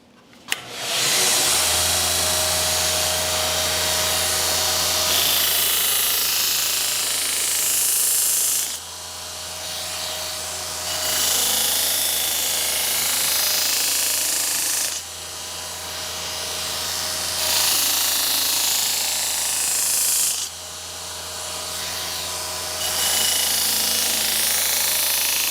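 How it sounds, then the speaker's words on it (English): A power tool grinds mill scale off steel stock before MIG welding, a loud steady whine that runs in long stretches with brief dips in pitch and level as pressure shifts. "So I'm going to knock the mill scale off."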